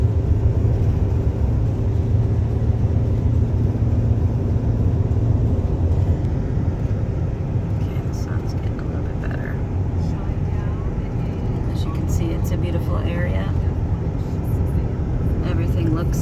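Car driving through an 11.45-acre rural property in Brasstown, North Carolina, a loud continuous engine and road rumble heard from inside the vehicle, with a voice talking over it.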